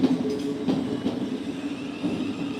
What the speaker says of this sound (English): Okay, the train is gone.